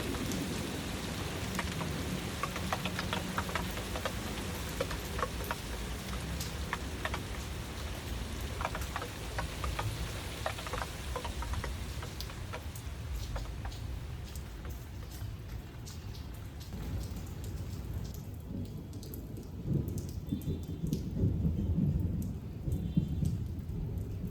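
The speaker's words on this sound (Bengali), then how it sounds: "আমি ছাদ থেকেও দেখাচ্ছি সন্ধ্যের সময়। খুব সুন্দর লাগে, বৃষ্টি হচ্ছে চারিদিকটা দেখতে।" Evening rain falling steadily all around a rooftop, a continuous soft hiss with scattered drips and patters, thinning slightly toward the end before a few louder splashes.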